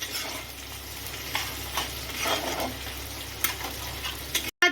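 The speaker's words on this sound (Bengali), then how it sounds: "আছে সবুজ capsicum, red bell paper, yellow bell paper আর চেরা কাঁচা লঙ্কা, সবটাই দিয়ে দেবো।" Green capsicum, red and yellow bell peppers and slit green chillies sizzle steadily in a pan over lowered heat with browned onion, with scraping stirs and a few sharper spatula clicks, close and continuous.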